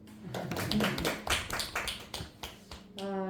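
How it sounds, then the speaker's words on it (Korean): Audience members at a poetry lecture clap briefly, a short cluster of soft, uneven claps fairly close by, followed by a hum as a voice starts. "그것도 박수"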